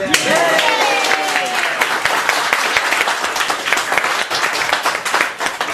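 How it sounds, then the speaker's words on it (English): Audience applause at a book launch with poetry readings, a dense, steady patter of many hands clapping close by, sustained for several seconds at even loudness. "a round of applause for our camera person."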